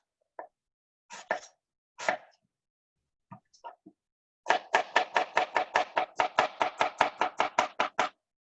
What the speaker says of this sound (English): that's how you can cut that fast, if you can guide the blade with your finger